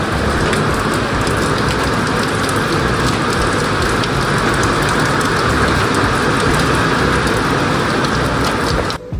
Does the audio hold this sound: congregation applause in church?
no